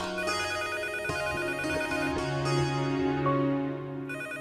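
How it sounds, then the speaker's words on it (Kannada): An early-morning telephone rings with a steady electronic ringtone over a sustained tonal music bed, continuous for several seconds and fairly loud, with no talking. "ಇಷ್ಟು ಬೆಳಬೆಳಗ್ಗೆ ಯಾರು ಫೋನ್ ಮಾಡ್ತಿದ್ದಾರೆ"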